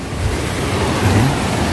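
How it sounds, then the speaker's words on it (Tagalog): Ocean waves crash at the Blue Lagoon in a loud, continuous roar of surf, with wind buffeting the microphone throughout. "Yung mga ampas ng alon."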